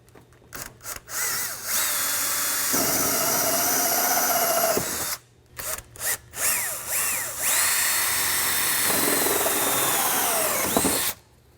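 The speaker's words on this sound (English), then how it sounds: "next steps to drill the holes. I got a 2-inch hole saw here." A power drill with a 2-inch hole saw whines through the dash of a Polaris RZR XP Turbo in several long bursts, loud and close, with short pauses and stops between cuts.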